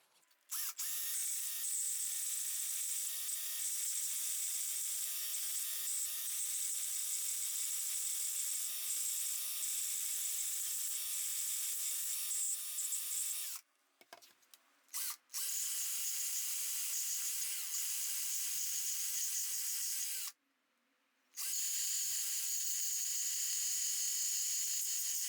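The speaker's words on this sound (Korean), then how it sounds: "이번엔 드릴로 해보겠습니다." Electric drill spinning a homemade sandpaper disc, a steady high-pitched whine held for long stretches, cutting out twice briefly before spinning up again, loud and close with no talking.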